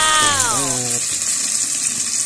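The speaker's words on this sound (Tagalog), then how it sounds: "itong piniprito kong chicharong bulaklak" Chicharong bulaklak, pork intestine, frying in hot oil with a steady close sizzle throughout; a brief voice-like tonal sound rises early, then the crackling hiss continues alone.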